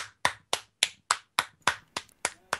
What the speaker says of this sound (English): That insincere single clapping.